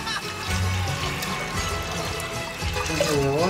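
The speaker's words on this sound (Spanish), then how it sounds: "Vamos a poner el agua." Water splashes and trickles into a cooking pot in a home kitchen, a steady pour running for a few seconds with brief background voice.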